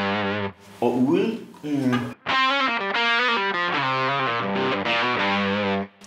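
An electric guitar plays through an overdrive pedal with no compressor, producing loud, gritty distorted notes in a melodic line with some bends, dynamics varying more between phrases.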